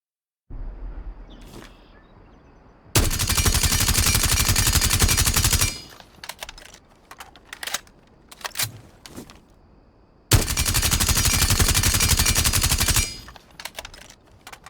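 Automatic gunfire in the video game Rainbow Six Siege while a no-recoil macro is tested: two long, loud sustained bursts of rapid fire, separated by quieter game sounds and scattered clicks.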